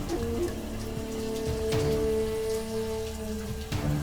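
Steady rain falls in the background, a continuous soft patter with a faint musical drone underneath, no voices.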